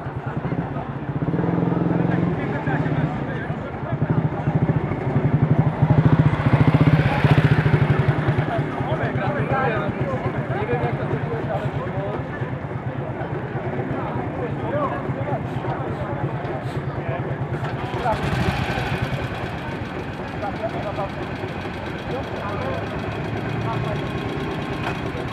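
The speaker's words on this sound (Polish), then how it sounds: "Motocykl produkcji niemieckiej, Miele, Sachs, Setka." A German Miele Sachs 100cc motorcycle engine runs close by with a rapid, steady two-stroke putter, swelling in a couple of throttle blips before settling into a rough idle, with people talking over it.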